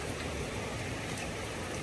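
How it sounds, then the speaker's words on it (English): Rain from Tropical Storm Helen pours down in a dense, even hiss that continues without a break and with no voices. "Now let me get back in here out of this rain."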